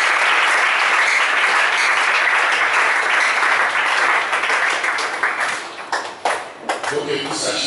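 A congregation at a Sunday church service bursts into loud, dense applause that holds steady for several seconds, then thins into scattered claps and breaks off toward the end.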